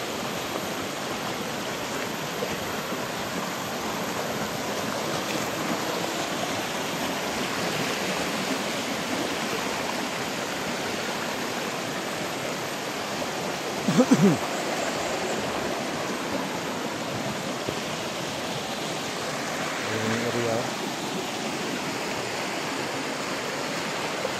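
Water flows in a creek with a steady, moderate rushing hiss. A brief knock sounds partway through, and the flow otherwise stays even.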